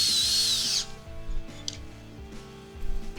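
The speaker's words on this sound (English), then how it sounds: "just lining up the holes and putting screws in, tightening them down" A power drill whines loudly for under a second while driving a screw into an RV awning bracket, then stops, leaving faint clicks and mechanical handling noise.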